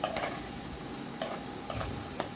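Onion frying in a pan gives a steady low sizzle, broken by a few short scraping strokes of a spoon stirring it.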